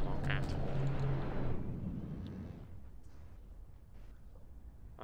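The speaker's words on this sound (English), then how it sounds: "first shot, slightly overshot a little bit, but as you can see, the secondary weapons are already slicing this thing apart" Heavy weapons fire from warships in the naval combat game From The Depths: a loud rumbling boom that slowly fades into a low, distant roar over several seconds.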